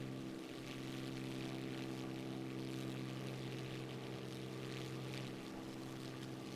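An Eviation Alice electric plane in a flight game drones steadily on approach, a constant tonal hum with layered harmonic whine and airy hiss, unbroken and even in level from start to finish.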